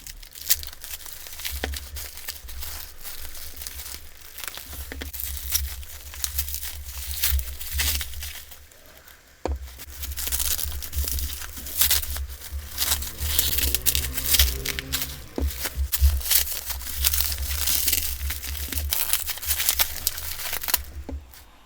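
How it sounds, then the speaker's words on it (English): Plastic packaging crinkled, torn and crumpled while slime pots from a June restock are unwrapped, steady close rustling and tearing throughout with a brief quieter pause midway, no talking. "So I'm not sure what's in here, but let's get to unwrapping"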